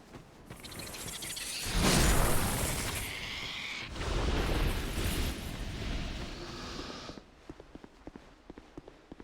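Explosion in the video game Dark Souls 2: a loud, heavy burst with a rumbling, crackling tail, then a second surge a couple of seconds later that fades out into small clicks and quiet game sounds.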